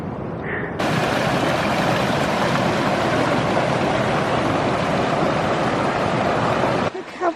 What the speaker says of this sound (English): This is Whitney Creek, blowing strong.